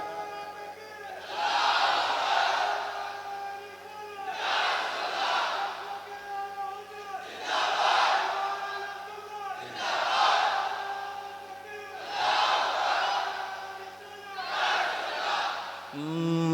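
A crowd chants a slogan in loud unison, with about six surging call-like phrases repeating every two to three seconds at a steady rhythm and heard from some distance.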